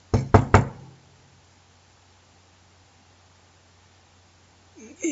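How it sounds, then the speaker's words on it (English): Three quick knocks on a house door sound close and firm at the start, then a long near-silent pause before faint shuffling and movement near the end. "He passed the door a dozen times before he had the courage to go up and knock"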